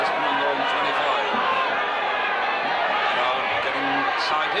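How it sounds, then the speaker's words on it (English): Crowd noise from spectators at a Warrington versus Featherstone rugby league match, a steady broad roar of excited voices throughout, with faint commentary-like speech mixed in. "Crowd getting excited."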